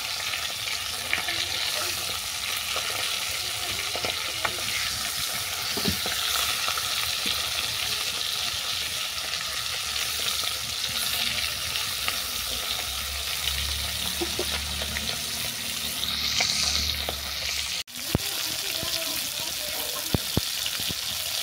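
Fish heads fry in hot oil in a home kitchen, cooking for a flattened-rice and potato dish, giving a steady, close crackling sizzle throughout, with occasional utensil clicks and a brief run of water near the end.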